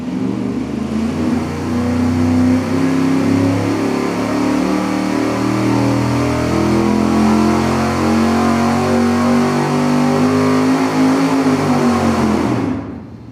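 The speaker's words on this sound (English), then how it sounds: "we're going to do a regular straightforward dyno pull as we always do at an acceleration of 300 RPM per second" A 383 V8 with iron heads on an engine dyno sweeps upward at a steady 300 RPM per second, a loud sustained roar rising smoothly in pitch for over twelve seconds before cutting off abruptly.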